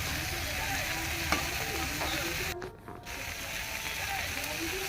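Shrimp fry in a pan with a steady crackling sizzle while being stirred, with occasional clinks and scrapes and a brief dip in the middle.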